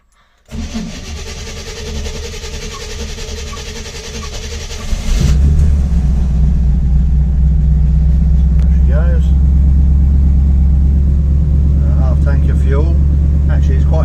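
A 1967 Chevrolet C10 short-bed Stepside, cold after weeks unused, cranks briefly then catches into a loud, steady low rumble that runs on continuously, with a few faint voices in the background.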